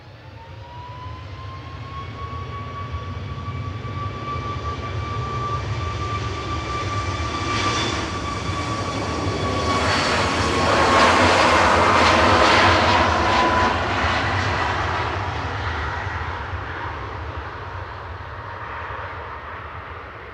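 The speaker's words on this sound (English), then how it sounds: "Looks like a turn and burn this from Ryanair, flight 3222 over to Brussels Charleroi." A Ryanair jet airliner takes off at Manchester Airport, its engine roar building steadily with a sustained whine and peaking near the middle before slowly fading, heard alone with no talking.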